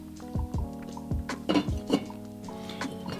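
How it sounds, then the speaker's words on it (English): A tagine lid is set down over Moroccan sardine kefta, giving several close ceramic clinks and knocks with a ringing tone, then a couple of softer settling taps. "I'll cover the tagine and then I'll check on it in 10 minutes."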